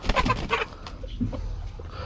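Young chickens, about two months old and mixed with three roosters, cluck in a few close bursts at the start before the sound drops to quieter scattered clucks.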